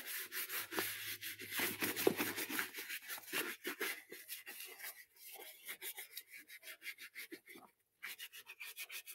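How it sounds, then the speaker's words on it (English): Brush scrubbing across a full grain leather shoe during cleaning, a steady close rasping rub with quick repeated strokes and brief pauses, no talking. "Let's go ahead and just scrub it down."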